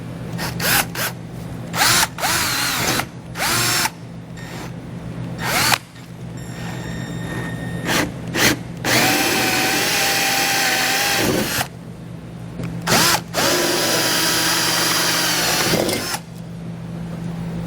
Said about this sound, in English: I'm using a 1-inch hole saw because it's about the same size as these factory holes